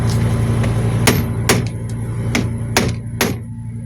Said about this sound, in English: So we're just going to take the hammer, make sure we got a nice flat surface to begin with.